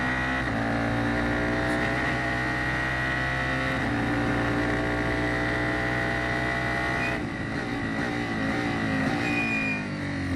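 F4 open-wheel race cars at Circuit of the Americas, a loud sustained high engine scream with rising and falling pitch as cars accelerate along the straight.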